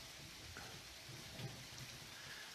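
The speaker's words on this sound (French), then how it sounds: "Il pleut de plus en plus, ça commence à devenir de plus en plus fort" Steady rain falls in a soft, even wash during a night thunderstorm, with a low rumble of thunder underneath, fairly faint and without voices.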